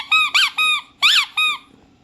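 A squeaky baby toy is squeezed in five sharp, high-pitched squeaks with short gaps, loud and close against a quiet room.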